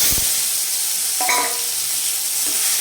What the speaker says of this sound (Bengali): দেখো এখানে কালো জিরে ফোড়ন দিচ্ছি আমি